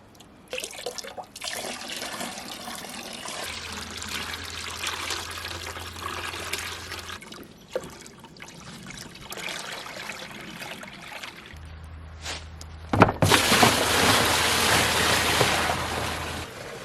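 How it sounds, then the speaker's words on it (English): A bucket of rainwater is dumped by hand into a garbage can at an off-grid tiny cabin, with trickling and splashing water in bursts, ending in a loud, sustained rushing pour near the end. "take a bucket and dump it in there by hand"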